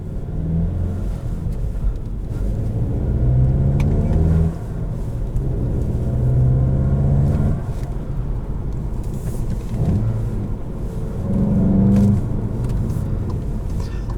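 A 2021 Volkswagen GTI SE with a manual gearbox idles with a low engine rumble heard from inside the cabin, swelling in several gentle revs and easing back between them, steady and fairly close.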